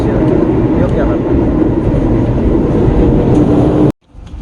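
Extra passenger train (KLB) nearing its final stop at Yogyakarta station, heard from on board as a loud, steady rumble of wheels and carriage noise that cuts off abruptly near the end.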